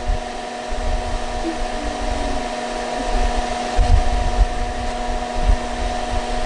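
A Pelonis disc furnace space heater runs steadily with all its discs working, giving a loud, constant whir and hum with no voices.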